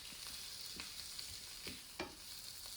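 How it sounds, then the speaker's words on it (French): Shrimp dropped into hot oil in a frying pan give a steady broadband sizzle throughout, broken by a few sharp pops and crackles, with no voices. "Lorsque l'huile est bien chaude, je vais venir maintenant rajouter mes crevettes à l'intérieur."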